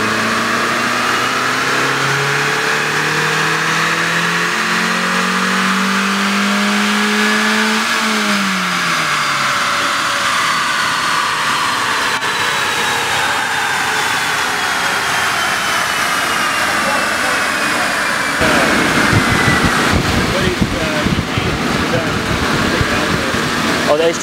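A Honda H22 engine in a 2007 FG1 runs on a dyno, its tone rising and sweeping through steady revs. The pitch jumps near the end, and the sound holds loud and continuous throughout.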